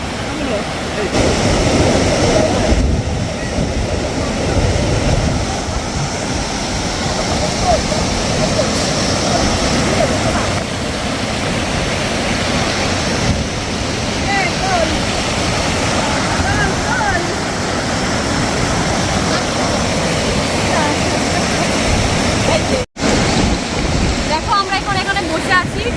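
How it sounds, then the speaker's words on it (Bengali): A waterfall near a hamlet in Kalimpong roars loudly and continuously, a dense, unbroken rush of falling water that fills the whole scene. "ঝর্ণার প্রচণ্ড আওয়াজ"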